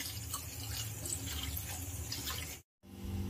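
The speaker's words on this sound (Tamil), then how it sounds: "ஸோ இதுக்கு 1 கப் அளவுக்கு நம்ம தண்ணி ஆட் பண்ணி இதை மெல்ட் பண்ணி எடுத்துக்கலாம்." Roughly a cup of water is added to jaggery in a pot, a steady running, splashing flow like a tap filling a vessel that cuts off briefly near the end before resuming.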